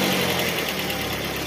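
A car engine runs steadily at idle while air is bled from the radiator, a close, continuous mechanical drone with a faint rhythmic ticking, no talking.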